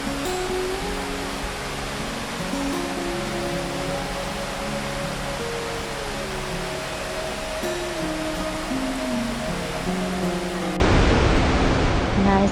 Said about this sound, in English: Nice and beautiful waterfall. Thunder Bird Fall.